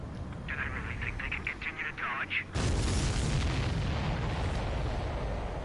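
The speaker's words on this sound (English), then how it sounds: "Missile hit the supply ship dead on." A missile strike on a supply ship in the flight combat video game Ace Combat 7: a sudden heavy blast breaks in midway and rolls on as a loud, rumbling roar, after a garbled radio-style voice.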